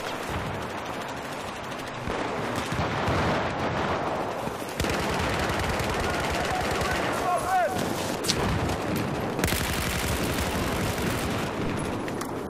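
Gunfire in the video game Battlefield 4 during a Conquest match fills the clip with dense, continuous bursts of automatic fire and scattered shots at a moderate level, with players talking over it.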